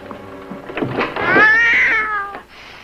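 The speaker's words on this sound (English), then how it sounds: "It's only a tabby." A tabby cat gives one long, clear meow that rises and falls, close and loud, with a few soft lead-in sounds, in a 1958 television drama scene.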